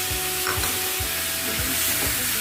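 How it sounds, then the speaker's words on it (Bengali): Masala paste with tomato sizzles steadily in a hot kadai for aloo dum, a dense frying hiss running throughout with soft, regular scrape-thumps from stirring roughly every half second. "এবার ভালোভাবে কষে নেব মশলাটা যাতে পুড়ে না যায়"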